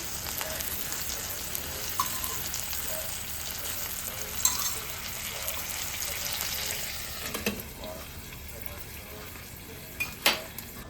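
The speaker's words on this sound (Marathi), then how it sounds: "थोडंसं अजून तेल टाकते मी त्याच्यावर आणि पण झाकून ठेवणार आहे" Eggplant sizzles in hot oil in a covered pan while cooking for bharit, a steady close frying hiss with a few faint utensil clinks.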